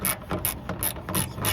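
A 3/8 ratchet loosens a bolt on a 1983 GMC C70 truck with fire-burnt parts, giving five quick rhythmic clicking strokes close up, no talk.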